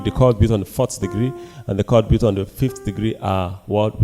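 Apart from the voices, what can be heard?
No everyday noise stands out behind the speech.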